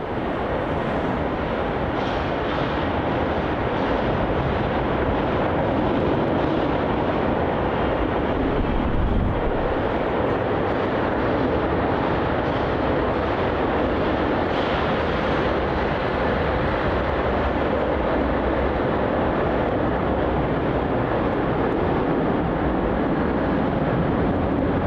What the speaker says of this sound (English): It's an A330-200. It's going to be departing off runway 34 now, our next departure.